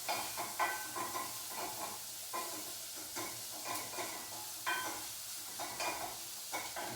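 Chorizo and onion sizzle and fry in a pan, a steady close hiss broken by repeated rhythmic stirring scrapes, moderately quiet with no talking.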